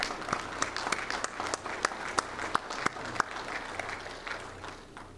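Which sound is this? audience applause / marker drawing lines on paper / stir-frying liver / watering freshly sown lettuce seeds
audience applause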